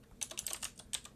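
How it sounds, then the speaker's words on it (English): Quick, uneven run of computer keyboard key presses, about a dozen clicks in just over a second, close and fairly quiet with no talking. "And now I'll type in"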